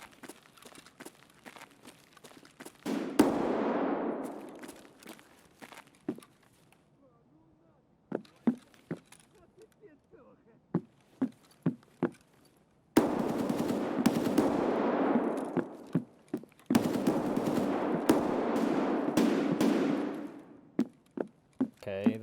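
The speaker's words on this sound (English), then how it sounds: "I will hear more gunshots and be able to place where these players are at" Gunfire in Escape From Tarkov: sharp single shots and rapid automatic bursts, some close and loud, others distant, scattered between quieter stretches and louder rushes of noise.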